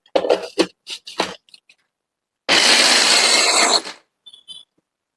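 Cooled prawn omelette ingredients chopped with a knife on a board: a few quick, close cutting strokes, then a longer burst of dense scraping and crushing, followed by faint scattered taps.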